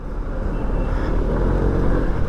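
A Suzuki Burgman 150 scooter's engine drones steadily and fairly loud through a test ride, with broad wind and road rumble mixed in as it pulls away.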